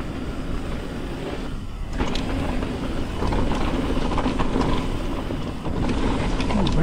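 A car rolls over braking bumps on a road near Flagstaff, Arizona, with steady road rumble and a few dull jolts as the wheels hit each bump.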